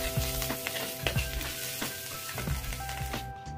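Onions frying in a pan for a traditional Tamil dish with brahmi, a steady crackling sizzle with bursts of popping and occasional stirring, close up and without talk.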